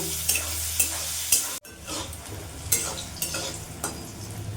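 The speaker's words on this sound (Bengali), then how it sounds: "বেগুনটা লাল লাল করে ভেজে নেব" Salted, turmeric-rubbed brinjal fries in hot oil with a steady close sizzle. Stirring scrapes come in short bursts, and one sharp break interrupts the sound before the frying resumes.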